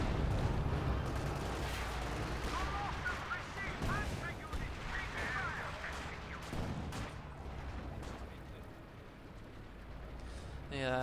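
Incendiary artillery barrages pound a central victory point in a real-time strategy game match, giving dense, continuous rumbling blasts and crackling impacts. A commentator talks steadily over the top.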